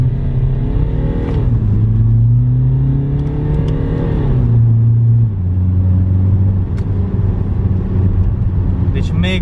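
A BMW E60 with a 2.0 diesel engine accelerating, a loud, steady engine drone that climbs in pitch through the gears, with shifts audible along the way, heard from inside the car with a voice talking over it.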